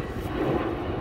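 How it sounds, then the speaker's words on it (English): A propeller airplane passes overhead above a garden, giving a steady low engine drone that holds at moderate loudness through the short moment, with no talking. "Pardon the plane above me."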